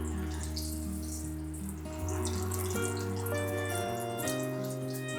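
Cut potato chips, triple-cooked style, sizzle and hiss steadily as they fry in hot oil, a continuous bubbling crackle with faint tonal music underneath.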